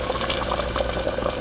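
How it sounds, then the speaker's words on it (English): Boiling water poured into a pot of red lentils for Turkish red lentil soup, a brief close splashing, gurgling pour that runs steadily without pause. "to which you add 5 cups of boiling water."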